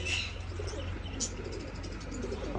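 Pigeons coo softly and low, in a quiet, continuous murmur with a brief chirp or two over faint background noise.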